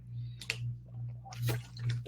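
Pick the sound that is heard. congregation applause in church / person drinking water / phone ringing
person drinking water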